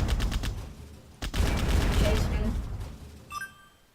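Rapid gunfire in the robot-shooting game Heads Up: Bad Bots, loud bursts of repeated shots that break briefly and resume before trailing off, with someone talking over them.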